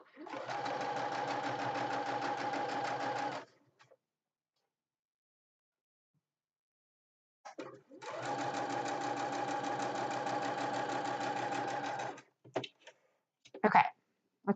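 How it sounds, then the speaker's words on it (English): A sewing machine stitches a hankie table runner in two long, steady runs separated by a quiet pause, followed by a few brief clicks and short bursts near the end. "And I'm just going to sew, Derek."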